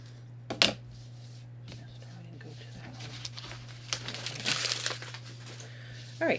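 Scissors cut out paper sleeve pattern pieces, producing crinkling and rustling paper sounds with a few sharper snips, fairly close, with some talking around them.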